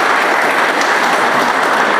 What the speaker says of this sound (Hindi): एक बार जोर तालियां बजे दोस्तों।